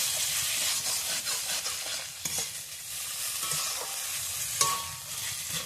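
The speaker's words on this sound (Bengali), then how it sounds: "নুডলসটা দিয়ে দিয়েছি, দিয়ে ভালো করে আমি মিশিয়ে নেব।" Noodles with vegetables and spices stirred in a hot frying pan, a close, steady sizzle with scraping stir strokes running throughout and a sharper clink near the end.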